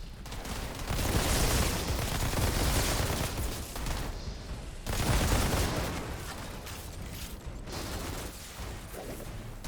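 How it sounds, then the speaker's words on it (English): Gunfire in the Outriders demo, with loud sustained bursts of shooting in two heavy waves separated by a brief lull, plus mechanical clatter and rattling between shots. "Wait, you're shooting?"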